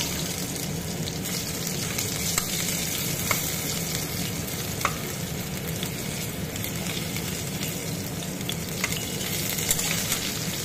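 Loud, continuous sizzling of small-cut potatoes frying in hot oil, with occasional scraping stirs throughout.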